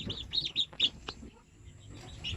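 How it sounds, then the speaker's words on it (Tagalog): Newly hatched shamo, aseel and zampen native chicks in an incubator, giving several quick high chirps in short bursts over a low background hum. "So ngayon ay meron tayong bagong hatch na mga sisiw sa ating incubator."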